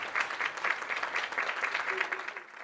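Mourners applaud at a burial in Blumenau for victims of a daycare attack, a steady patter of clapping from a gathered crowd, moderately distant, with faint voices mixed in throughout.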